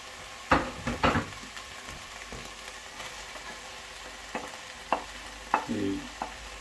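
Carrots, celery and garlic hit a pan for a bolognese, giving a few sharp stirring scrapes and clatters over a low, steady frying sizzle, with quiet pauses in between.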